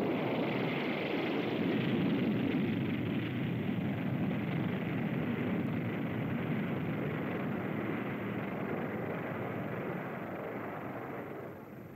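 A jet bomber roars steadily on takeoff, helped by JATO rocket bottles. The broad, rushing thunder is heard at a distance and slowly fades over the final seconds.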